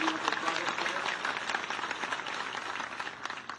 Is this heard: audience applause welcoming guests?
yes